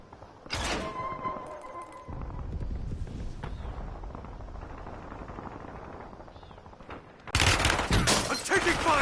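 Rapid automatic gunfire in a Warzone match, sustained bursts of loud shots, with a sharp burst near the start and another heavy volley toward the end.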